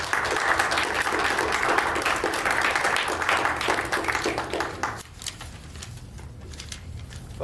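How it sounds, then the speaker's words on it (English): A room of attendees at a regular school board meeting gives a round of applause, with steady, moderately loud clapping for about five seconds before it tapers off into quieter room noise. "So just give them a round of applause."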